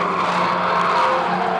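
A street stock race car skids around the Cullen Bullen Raceway during a memorial feature race, giving a loud, continuous roar of engine and scrubbing tires that holds steady for under two seconds.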